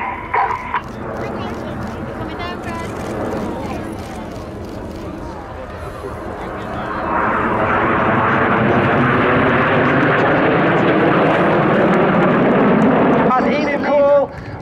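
Red Arrows jets fly in formation at the RAF Cosford Air Show, a deep jet roar building from a distant rumble into a loud sustained pass, with an announcer talking over it.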